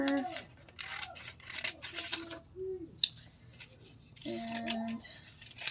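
Scissors snip small paper pieces in quick, light cuts that come in short clusters, with a quiet voice talking underneath.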